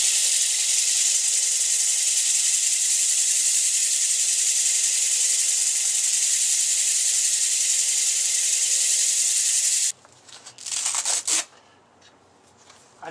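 Soft-pad sanding with 220 grit paper on a salvaged wooden piece: a steady, even hiss runs for about ten seconds, then stops, leaving a few brief rubbing and handling noises.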